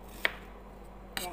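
A knife chops an onion on a cutting board in a home kitchen, two quick sharp chops about a second apart, quiet and close with no talk.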